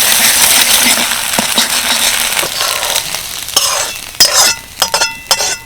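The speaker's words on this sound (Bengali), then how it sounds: "এবার একদম ধীরে ধীরে করে ভেজে নেবো ডিমটা" Two eggs frying in white oil with a little salt, a steady hiss that fades toward the end while a few sharp clinks and scrapes of a utensil punctuate it, close and fairly loud.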